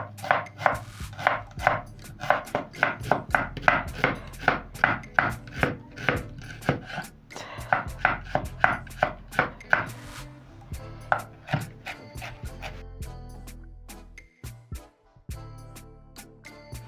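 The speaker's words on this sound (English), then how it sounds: "So next I'm going to chop my onions." A knife chopping two halved onions on a cutting board, a long run of fast, even, close knocks that slows and thins out toward the end, with no talking.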